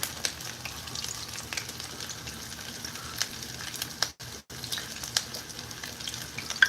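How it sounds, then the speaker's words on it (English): Meatballs sizzle and crackle in hot vegetable oil, a steady frying hiss with scattered pops and occasional clicks, heard up close without talking. "we're dropping our meatballs in our vegetable oil"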